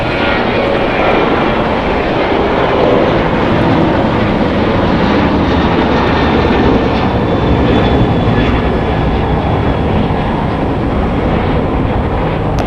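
An American Airlines Boeing 737-800, about seven years old, takes off from Los Angeles International Airport, its jet engines a loud, steady, broadband roar that holds constant throughout with no voices.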